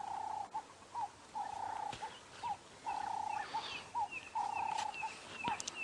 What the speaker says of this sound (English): You can hear the turtle doves